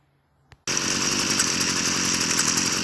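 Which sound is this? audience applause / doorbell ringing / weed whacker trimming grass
weed whacker trimming grass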